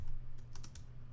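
A few quick keystrokes on a computer keyboard while a track name is typed in a music session, short clicky taps heard close and alone over a low hum.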